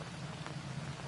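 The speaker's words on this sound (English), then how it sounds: "It has not stopped raining." Steady rain falling in the jungle survival game Green Hell, a dense even patter with a soft low hum beneath, constant and fairly faint through the short stretch.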